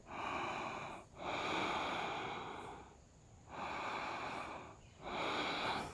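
Slow, deep yoga breaths through the nose drawn close to the microphone, three long airy rushes separated by brief pauses, steady and controlled with no talking.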